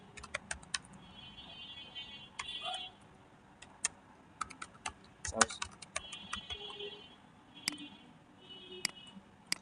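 Typing on a computer keyboard at a desk. Irregular quick bursts of soft key clicks and a few louder taps come through at low level, with faint background voices in places.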